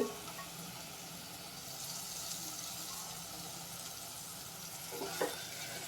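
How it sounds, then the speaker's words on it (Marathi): Jackfruit seeds sizzle as they are stirred in a frying pan in a Malvani-style vegetable dish, a steady close hiss with a few scraping spoon sounds near the end and no talking. "आणि हे सर्व व्यवस्थित मिक्स करून घेते"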